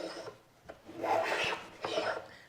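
A hand plane set for a fairly heavy cut shaves through a board while cutting a rabbet joint, producing two or three close, rasping strokes that swell and fade, with no talking.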